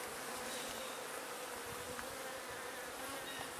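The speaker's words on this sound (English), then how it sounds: "I'll bump off as many bees as I can, as you just saw there, just by shaking them" Honeybees being shaken off honey frames during a fall harvest, a dense, steady buzzing swarm close by, faint overall but continuous with no voices.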